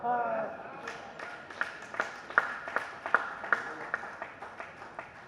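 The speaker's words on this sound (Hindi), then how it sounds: "तालियां तो आप बड़े आराम से बजा रहे हैं" Scattered, unhurried clapping from an audience at a Hindi kavi sammelan poetry gathering, a dozen or so distinct claps at a slow, uneven pace following a spoken line, fairly thin and close-miked.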